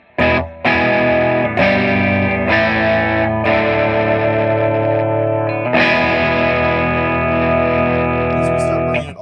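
Electric guitar played through a Marshall JTM60 valve amp set between 6 and 7 for an edgy breakup tone, loud sustained distorted chords and ringing notes played alone without talk.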